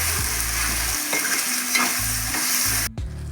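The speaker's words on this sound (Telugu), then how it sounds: "దీనిలో ఇప్పుడు మటన్ వేసుకుని బాగా ఉడకనిద్దాం. అన్నీ మిక్స్ అయిన దాకా బాగా కలుపుకుని" Mutton curry stirred in a pan over steady, loud frying sizzle, with repeated scraping strokes of a spoon against the pan and no talk.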